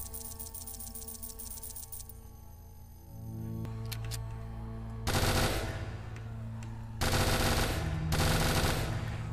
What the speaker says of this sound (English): I'm gonna go with the minigun